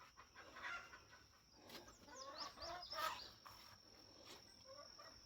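Chicks and hens cluck and chirp in a coop holding an Araucana rooster, several soft overlapping calls rising and falling at close range with no talk.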